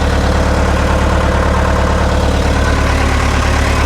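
An old forklift engine idles nearby, a loud steady low rumble with an even, rapid mechanical pulse and no change in speed throughout.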